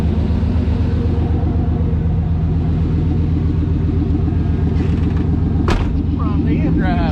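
A lowered truck engine idles loudly and close with a heavy rumbling, pulsing low drone throughout, and a brief voice cuts in near the end.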